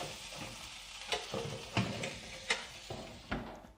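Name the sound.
stirring roasting potatoes on baking tray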